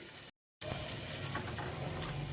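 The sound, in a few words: frying mutton korma with yogurt in a pot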